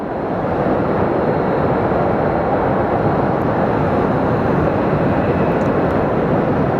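An Airbus A300 jet coming in to land at Sky Harbor Airport, its engines a loud, steady, broadband roar that stays constant and close throughout.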